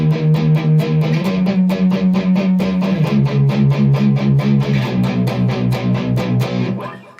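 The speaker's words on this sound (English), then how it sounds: "we're going to jump to the verse where we're going to play the power chords." Electric guitar power chords for the verse of a song, chugged in a steady, fast rhythm with two chord shifts, loud and close with no talking.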